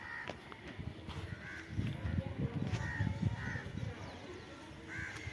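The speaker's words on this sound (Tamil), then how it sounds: "இந்த திண்டில் ஒரு பறவை உட்காந்துருக்கு பாருங்க." A crow perched on a ledge caws several times in short, spaced calls, fairly close, over a low background bustle of movement.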